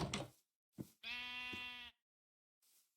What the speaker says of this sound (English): those sheep are loud